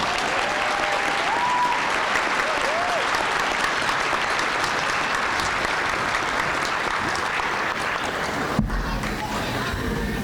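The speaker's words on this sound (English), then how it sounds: "A round of applause, please." A graduation audience applauds student speakers with loud, sustained clapping that holds steady throughout, ending with an abrupt shift as a voice begins.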